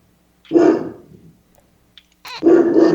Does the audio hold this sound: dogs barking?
yes